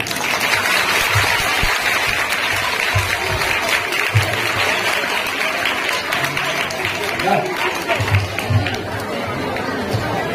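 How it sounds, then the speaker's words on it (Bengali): An audience of schoolchildren and guests at a school rally and exhibition claps loudly and continuously, with chatter and scattered voices mixed through the applause. "সবাইকে বলবো একটা ভালো জোরে হাততালি দিতে"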